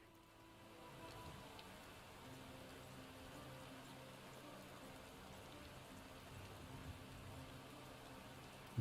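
Steady rain falls in the video game Final Fantasy XIV, a soft, even patter of drops that stays faint and constant throughout without voices.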